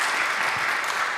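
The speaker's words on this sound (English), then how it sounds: "Councilmember Tanya Woo, also, round of applause, please." Audience applause for Seattle Councilmember Tanya Woo at a District 7 town hall on public safety, a steady dense patter of many hands clapping at even loudness throughout the short burst, with no talk over it.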